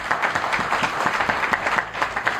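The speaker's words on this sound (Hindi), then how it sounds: "एक बार जोरदार तालियां बजाइएगा" Steady applause from an audience at a public event in Udaipur honouring a mountaineer, dense rhythmic clapping of many hands heard clearly and moderately loud throughout, with no talk over it.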